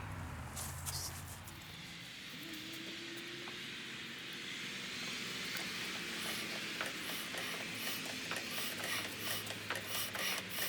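A vintage Sattley stationary engine's flywheel is spun by hand to prime the carburetor, giving faint rhythmic mechanical clicking and clattering over a low background hum that grows slightly busier toward the end.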